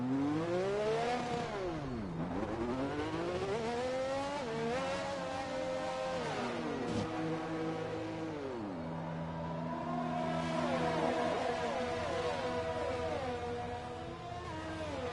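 A Formula One race car engine in the F1 2021 game, driven for Acura Team Penske at the Russia round despite a severe engine issue, revs loud and continuous, its pitch dipping and climbing through gear changes with no talk over it.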